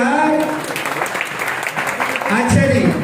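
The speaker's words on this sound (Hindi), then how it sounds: "चलिए इसके लिए तालियां बजा दें यार।" An audience applauds at a company awards gathering, a short steady patter of clapping mixed with someone talking loudly over it.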